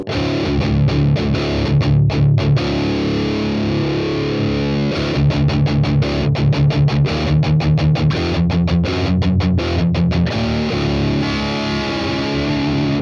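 Crunchy overdriven electric guitar riffing through a BOSS Katana MK2 amp's crunch channel, loud and steady, with tight palm-muted stops and chugging rhythmic bursts throughout.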